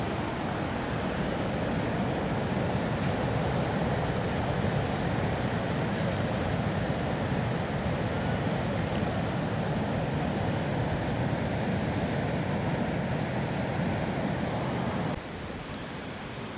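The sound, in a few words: waves and wind on a beach at Agadir, Morocco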